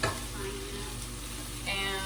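Garlic and toasted pine nuts sizzle steadily in a hot pan, a close, continuous frying hiss with a brief stir near the end, with no voices.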